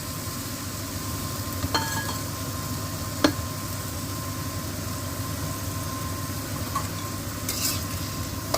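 Soya chunks chilli with dried chillies and vinegar frying and being stirred in a pan, a steady close sizzle running throughout with a few sharp scrapes and clinks of the spoon against the pan.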